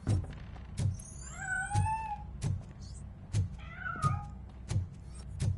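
Several cat meows from Robocop Rogue City, rising and falling, sound over a steady low rhythmic thumping in the game's background, with a short gap between two groups of calls.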